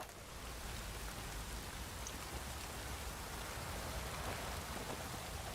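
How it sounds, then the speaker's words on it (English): Light rain falls in The Witcher 3, a soft, even hiss of drizzle that continues unbroken throughout, quiet and spread wide with no other sounds standing out. "Oh, it's drizzling."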